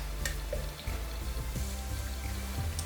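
A freshly blended strawberry and banana smoothie is poured out in one steady, continuous liquid stream, close and fairly quiet, with faint clinks from the container.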